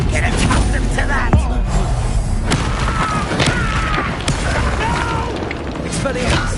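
Bombarda spell blasts in Hogwarts Legacy combat, a dense run of booming impacts and crackling bursts throughout, loud and close, with a voice speaking over the spell effects.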